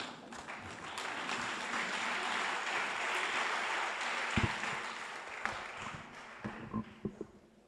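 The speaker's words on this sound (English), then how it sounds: "Can you stand and give him a round of applause," An audience at an outdoor bicycle distribution event applauds the deputy minister of transport, a steady, moderately distant clapping that thins toward the end into a few scattered louder claps and knocks.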